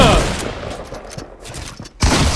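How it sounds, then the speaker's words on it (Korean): Shotgun blasts ring out during a Fortnite tournament match, several loud sharp shots close together with a commentator's voice over them. "샷건 너무 많이 쏘는데요"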